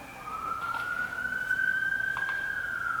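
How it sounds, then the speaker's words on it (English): A siren wails with a steady rising tone, fairly loud and continuous throughout, with faint background noise beneath. "That siren is really loud."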